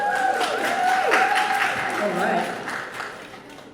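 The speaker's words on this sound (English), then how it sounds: "Give them all a round of applause." Audience clapping for panelists at a nail art panel discussion summit, sustained applause under a host's voice throughout, fading slightly toward the end.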